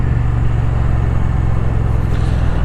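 A 2017 Triumph Street Cup motorcycle engine runs with a steady, loud, close low rumble that holds level throughout, with no speech.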